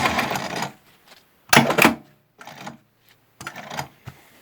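Sewing machine working a decorative stitch, heard in short separate bursts of mechanical whirring and clattering with quiet gaps between them.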